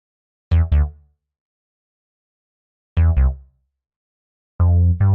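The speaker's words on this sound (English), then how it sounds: "another little bass pluck that's kind of accentuating that every other 4 bars" A soloed synth bass pluck from a hip hop track plays short, bouncy paired notes spaced a couple of seconds apart, clean and close with nothing else playing.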